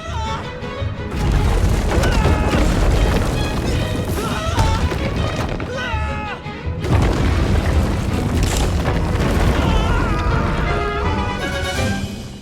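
A bomb explodes in the video game Little Orpheus, a loud sustained roaring boom with crashing debris and rumble, broken by a short pause before a second heavy blast, over a backdrop of game music.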